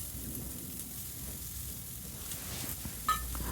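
A thick-cut onion rubbed over an oiled hot cast iron tawa during seasoning gives a soft continuous sizzle with light scraping, quiet and even, with one brief tap near the end.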